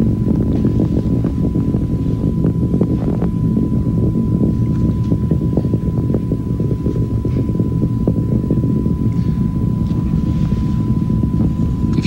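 Space Shuttle Discovery's rocket engines at throttle up during the 1998 launch carrying John Glenn: a continuous, heavy, loud roar that holds steady throughout without any break.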